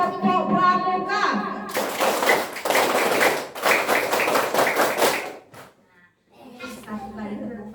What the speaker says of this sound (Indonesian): Nah sekarang biar anak-anak bisa konsentrasi, coba tepuk pramuka.